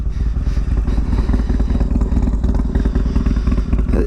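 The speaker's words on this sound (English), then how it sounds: "D&D exhaust sounds really good on this." Harley-Davidson XR1200 motorcycle with a D&D exhaust, a deep continuous rumbling engine note running steadily nearby, with some clatter and road noise mixed in and no voices.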